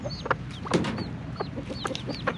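Broody hen clucking close by, a few short throaty clucks and soft murmurs in quick succession over light background noise.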